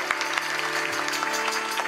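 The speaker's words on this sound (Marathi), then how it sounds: "एकदा आमच्या मृदंगाचार्यांसाठी टाळी वाजवा महाराज." Steady audience applause fills a Marathi kirtan gathering, with dense, continuous clapping from a crowd and a sustained musical drone faintly underneath.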